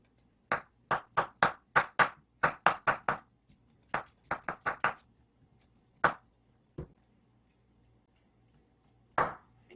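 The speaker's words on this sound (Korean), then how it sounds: "딱딱한 부분은 잘라주세요" A knife chops through the tough base of a bamboo shoot on a cutting board, a quick run of about a dozen sharp, woody knocks, a short pause, then a few more scattered cuts, close and distinct with no talking.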